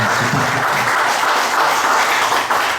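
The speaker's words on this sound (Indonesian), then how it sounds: "Sekali lagi tepuk tangan yang meriah untuk Mas Ahmad." Strong, dense applause from an audience at an LSM Cordova event in Indonesia, honoring a speaker named Mas Ahmad, a steady unbroken roar of clapping close and loud without speech.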